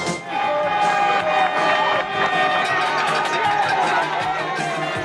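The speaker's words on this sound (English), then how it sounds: "Cheering today in the streets of Panama City as the search for Manuel Noriega finally ends." A crowd in the streets of Panama City cheers and shouts, a dense mix of whoops and excited voices that stays loud and close throughout.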